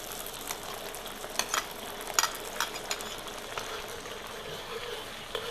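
Fish frying in hot oil in a wok, seasoned with scallion, ginger, dried chilies, red peppers and garlic, gives a steady soft sizzle with small crackling pops and stirring clatter, fairly faint and without talk.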